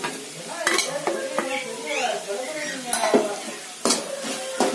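Cooked vegetables being stirred with masala in a pan for millet noodles, a spoon scraping and knocking the pan in sharp repeated strokes over a soft sizzle, close and alone.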